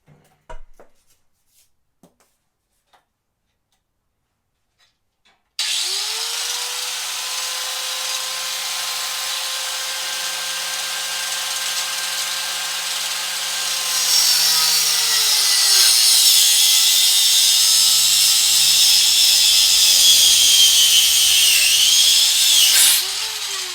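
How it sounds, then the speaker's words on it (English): A 1980s angle grinder cuts through braided fuel line: near-silence, then the grinder abruptly spins up into a loud steady whine that deepens and grows harsher as it bites, ending in a brief pitch dip. "I use my handy dandy grinder, as you guys can see there, from the 1980s"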